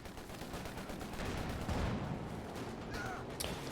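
Rapid gunfire aimed at an anti-tank gun on a Company of Heroes 2 battlefield, a steady stream of distant crackling shots running throughout with a few sharper bursts near the end, no talk.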